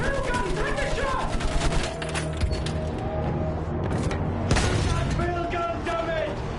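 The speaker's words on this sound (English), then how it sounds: "Field gun, take a shot!" Field gun fire in Battlefield 1 amid a dense wartime battle: heavy booms and rattling gunfire over continuous machinery and explosion noise, with shouted voices throughout.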